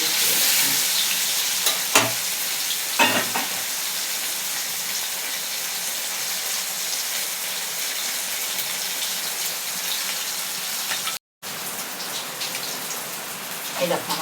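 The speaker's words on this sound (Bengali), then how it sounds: "এই দেখো আমার মাছ ভাজাটা হয়ে গেছে।" Chitala fish frying in plenty of hot oil, a continuous close crackling sizzle with a few sharp clinks of a utensil and a brief break in the sound.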